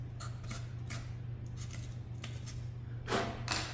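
Scissors snip off excess material around a small vent hole while a high-power model rocket is being built: a handful of short, crisp cuts spaced irregularly over a steady low hum, with a denser burst of snipping near the end.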